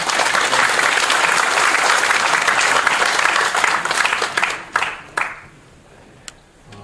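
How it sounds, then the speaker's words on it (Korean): An audience claps loudly and steadily for several seconds, then the applause thins into a few scattered claps before fading out. "다시 한번 박수 보내주시기 바랍니다"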